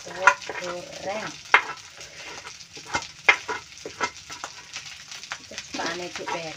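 Javanese fried rice is stirred and tossed in a hot pan, with a steady sizzle and repeated sharp scrapes and clanks of the utensil against the metal, and a voice talking at times.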